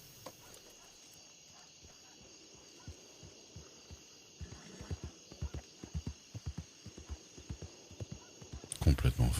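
Hoofbeats clip-clop in a western video game, a horse's steps building from soft, sparse thuds to a denser, louder trot, with a brief burst of louder sound at the very end and no voices.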